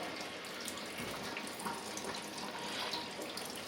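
Liquid drains steadily from an all-grain homebrew mash tun, a continuous trickling rush of water that stays soft and even throughout, with no talk.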